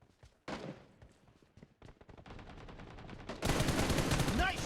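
Rapid automatic gunfire from a PUBG Mobile match, with bursts of shots that grow denser and louder toward the end, sharp repeated cracks close up.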